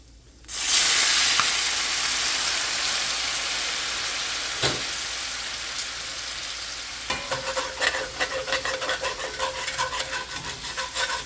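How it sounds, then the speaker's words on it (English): Scraping and sizzling in a cast iron pan as Lindemann's Bin 65 Chardonnay deglazes the fond under French chicken with grapefruit and thyme: a sudden loud hiss of wine hitting the hot pan, then steady frying with rhythmic scraping strokes near the end. "we're gonna scrape up all that fond with the help of some lovely Chardonnay"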